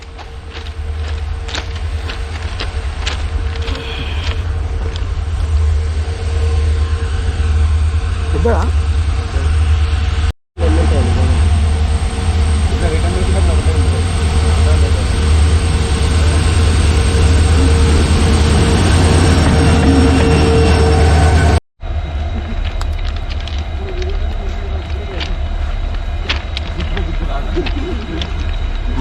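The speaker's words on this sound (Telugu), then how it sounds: "ట్రైన్ వస్తుంది." A train rolls past on a forest railway track near Dudhsagar waterfalls, a loud continuous rumble and rattle sustained throughout, with a brief voice heard over it.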